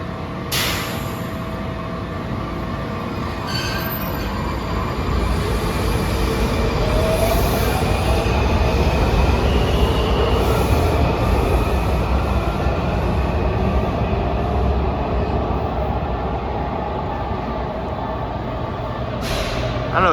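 A DC Metro Red Line train pulls away under automatic train operation, heard from on board as a loud, steady low rumble of rolling wheels and motors with faint brief squeals and clicks over twenty seconds.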